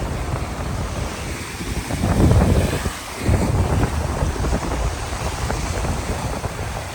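Ocean surf on a beach washes over a sand pyramid, a steady wash of waves swelling louder near the middle, with strong wind buffeting the microphone throughout.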